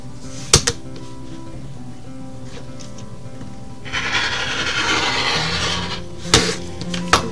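Scissors cut a T-shirt yarn strip lengthwise, a close, continuous rasping snip for a few seconds in the middle, framed by sharp taps and handling knocks.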